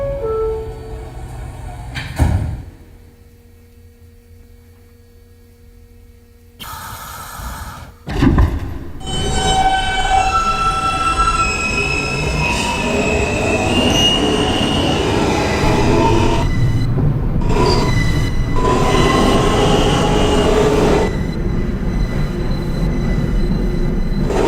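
An F local subway train bound for Jamaica-179th Street in New York sits quietly with a few clunks, then pulls away. It swells into a loud, continuous rumble of wheels on rail with squealing and rattling carriages.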